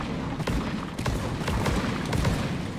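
Explosive plants in the cave shooter Deep Rock Galactic blow up in a rapid chain of booming blasts and thuds, dense and loud for several seconds.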